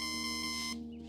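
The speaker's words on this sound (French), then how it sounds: "faut que je spamme son alarme" An alarm clock in the video game Until Then ringing with a steady, tonal electronic beep for most of a second, then cutting off abruptly; faint and alone.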